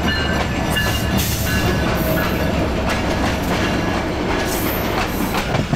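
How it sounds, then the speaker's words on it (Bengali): Paryatak Express passenger train bound for Cox's Bazar pulling into Biman Bandar (Airport) railway station, a loud, steady rumble of rolling wagons with rhythmic clickety-clack from the wheels throughout, close by and with no voices. "আর এটা পর্যটক এক্সপ্রেস আসতেছে, এই যে বিমানবন্দর রেলওয়ে স্টেশনে প্রবেশ করলো।"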